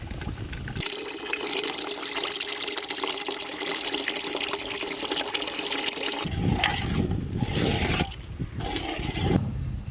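Water poured into a pot of fish curry made with ginger garlic paste and tamarind juice, a loud, continuous gushing pour close by, turning choppier and splashier in the second half.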